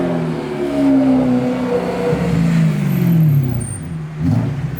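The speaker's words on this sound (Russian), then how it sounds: "Вот она. ДТМ выхлоп." A Toyota Supra fitted with a DTM exhaust rumbling and revving nearby during street drifting, with rising and falling engine tones over a few seconds, loud and with no talking.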